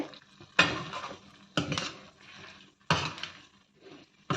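A spoon or ladle works kuzhambu ingredients together in a pot, giving three sharp scraping clanks separated by quieter stirring, close and without talk.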